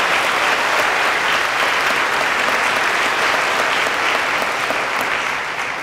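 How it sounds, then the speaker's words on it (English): A large winter commencement crowd applauds the graduating class of 2016 with loud, dense, sustained clapping that fills the hall for several seconds before easing slightly at the end. "So why don't we all start with a rousing round of applause for"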